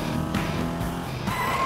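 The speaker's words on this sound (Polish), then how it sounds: "to mini-auto wydaje dźwięki mini-auta" A toy mini car in a cartoon gives off a steady revving engine drone with a squealing, skidding edge, loud and continuous with no talk over it.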